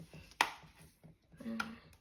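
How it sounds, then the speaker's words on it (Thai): A knife chops pork on a cutting board while red pork is being prepared, two crisp close strikes with soft handling noise between them. "กางแบบนี้ เพื่อจะหั่นได้ชิ้นแค่นี้นะคะ"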